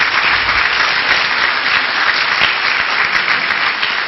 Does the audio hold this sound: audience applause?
yes